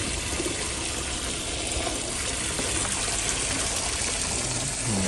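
Molting ducks bathe in a lake, sending up a steady, loud wash of splashing and churning water that carries on without pause.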